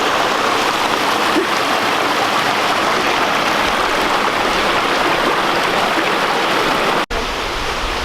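Steady, loud rushing water fills the air, a constant roar of a stream at the top of a waterfall, heard up close with no break, in the San Bernardino Mountains.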